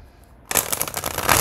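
A deck of tarot cards being shuffled close up, a dense papery riffling rush that starts abruptly and runs without pause.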